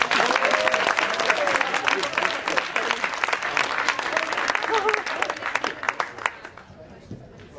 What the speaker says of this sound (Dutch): Nog 1 keer een groot applaus voor deze 3 heren.